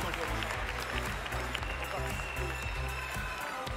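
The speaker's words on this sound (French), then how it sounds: "Applaudissements." Assembly audience applauds during welcomes of visiting guests, a steady busy patter of clapping over a low musical or hum background, moderately loud throughout.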